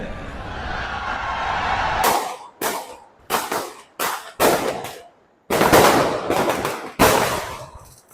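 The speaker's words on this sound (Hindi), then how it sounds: "यहाँ पे ये लोग इतने पटाखे बजा रहे हैं" Firecrackers bursting during Bhai Dooj celebrations: a low crackling rumble gives way to a run of sharp, loud, close bangs at irregular intervals, some in quick clusters, each decaying briefly before the next.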